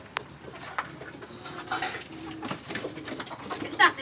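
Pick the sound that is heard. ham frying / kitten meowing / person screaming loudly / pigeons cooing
pigeons cooing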